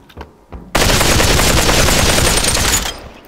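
Rapid automatic gunfire in a video game bursts in after a couple of faint taps, a loud sustained stream of shots lasting about two seconds before cutting off.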